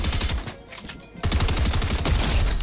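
Gunfire in the Fortnite video game, with rapid, close bursts of automatic shots, a brief lull, then another sustained volley of loud, rhythmic reports.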